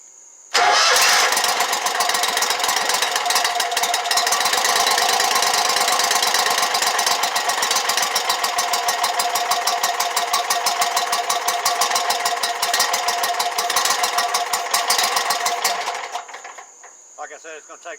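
An Exmark LZ72 zero-turn mower's engine, after a no-start fault, cranks and catches, then runs loud and steady with a fast even rhythm close by for about fifteen seconds before dropping off and sputtering.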